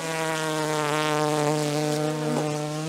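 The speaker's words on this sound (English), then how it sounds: "these bees are mad at me" Angry honey bees buzz loudly and close, a dense continuous droning whine with shifting pitch as individual bees swirl near, no voices.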